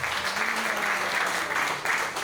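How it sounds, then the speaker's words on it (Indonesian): Church congregation clapping for the Sunday school children at a Pentecost service, a short burst of dense, steady applause filling the room. "Berikan tepuk tangan sekali buat anak-anak kita."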